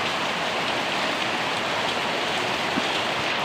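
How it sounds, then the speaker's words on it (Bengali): Steady rain falls under heavy cloud in a rural setting, a dense, even, close hiss of drops on surfaces with no talking. "আজকে বৃষ্টি হচ্ছে,"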